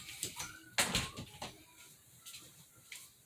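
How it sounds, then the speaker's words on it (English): A door is shut indoors with a single firm thud, preceded and followed by a few faint knocks and rustles of handling, fairly close, with no talking. "Let me shut the door."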